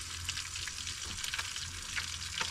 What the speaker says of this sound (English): Cooking up those mackerel I caught on the way in.